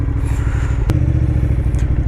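A motorbike engine idles and revs steadily on a dirt track in Norway, a loud close drone with a brief sharp knock near the start of the rumble and some clatter.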